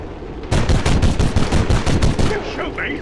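Rapid volley of loud gunfire in the turn-based strategy game XCOM 2 with Warhammer 40K Space Marines, a dense burst of shots lasting about two seconds before fading into faint background effects.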